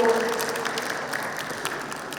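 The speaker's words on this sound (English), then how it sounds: "So another huge round of applause, please, for Abdul." Audience applause for Abdul at a youth festival held at Brac University in Dhaka, a steady wash of clapping from a large crowd throughout.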